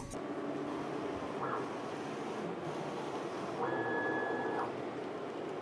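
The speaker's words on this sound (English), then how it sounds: "Then the printer starts to print." Printer running a print-head calibration job, laying down test lines: a steady mechanical hum fills the whole stretch, with a couple of brief higher whining carriage passes, one short and one longer, and no talk.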